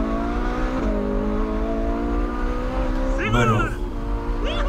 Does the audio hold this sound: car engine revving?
yes